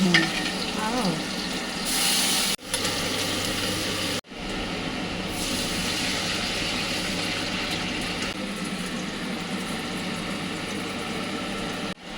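Black cumin seeds and onion sizzle and fry steadily in hot oil for a home-cooked lunch, a continuous close crackle with a couple of brief breaks and no one talking.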